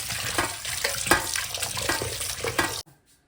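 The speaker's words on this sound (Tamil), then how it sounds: "இப்போ சிக்கன் கழுவிடலாம்" Chicken being washed under a running tap, water splashing loudly and steadily against the meat in a sink, then cutting off abruptly near the end.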